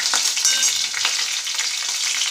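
Garlic cloves sizzle steadily in hot oil in a pan, a continuous dense crackle with faint stirring scrapes, close and alone.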